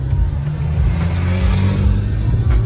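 A motorcycle passes close by on a road during an island tour, its engine a loud, steady low rumble that holds throughout with slight swells, mixed with other traffic noise.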